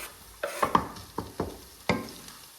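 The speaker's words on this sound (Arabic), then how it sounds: "اول ما يبتدي البصل يدوب ننزل عليه الثوم بقى كده." Onion and garlic fry in a home-kitchen pan, with soft sizzling under several distinct scraping stirs from a spoon, near and moderately loud, with no talk.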